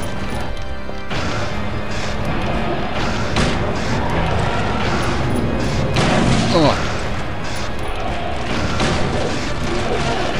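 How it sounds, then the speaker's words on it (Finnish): Close-range shotgun blasts in the horror game Silent Hill 3, loud booming hits over a dense, noisy game soundscape, with someone talking over them. "Nyt pistän sen haulikko käteen, perkele. Posautetaan oikein läheltä"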